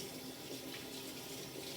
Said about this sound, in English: I'm just washing my hands right now.